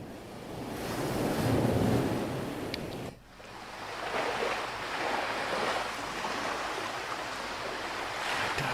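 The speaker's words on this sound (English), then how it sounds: "the first one was at the ocean surf" Ocean surf rolls in steady broadband washes of breaking waves, with wind buffeting the microphone and a brief dip midway before the roar resumes, continuous and moderately loud with no voices.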